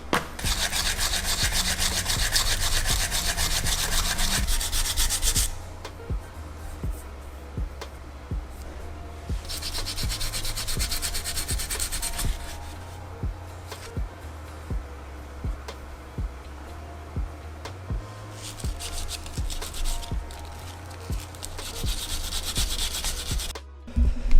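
Brembo brake calipers from an Acura RSX Type R are hand-sanded with 3M sandpaper, giving steady rhythmic rasping strokes up close. Louder stretches of rubbing alternate with quieter passes, and there is no talking.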